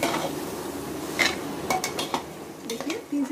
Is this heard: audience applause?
no